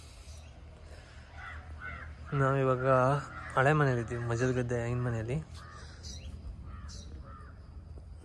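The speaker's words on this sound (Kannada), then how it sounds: "ಪಕ್ಷಿಗಳು ನೋಡಿ, ಅದರೊಳಗಡೆ ಪಕ್ಷಿಗಳೆಲ್ಲ ಇದೆ ಸುಮಾರು" Crows caw around an old house in rainy Coorg, a few harsh calls in quick succession nearby that stand out over the damp ambience. Someone talks before and after the calls.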